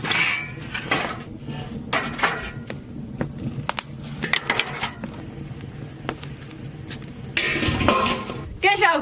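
A metal lid clanks onto a steamer pot holding pork belly and pickled cabbage, a few sharp clinks standing out amid ongoing kitchen clatter, with a voice speaking nearby.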